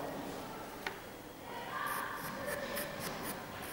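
A pencil scratches across paper while a regular hexahedron is drawn in isometric axonometry, with faint, close strokes that come in a few short, quick bursts.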